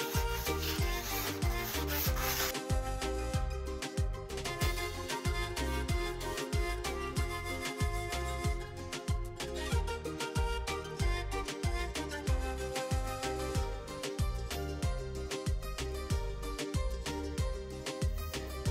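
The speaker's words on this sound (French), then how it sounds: "Donc c'est pour ça que nous sommes obligés de poncer" Steady back-and-forth sanding of cane for a zampoña pan flute, a dense rhythmic rasping that repeats about twice a second, loud and close with no talk.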